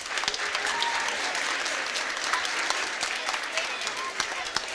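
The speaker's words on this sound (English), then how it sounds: "Let's give them another round of applause." Audience applause fills a school concert hall after a first grade music performance, a steady dense wash of many hands clapping close and loud throughout, with no other sound standing out.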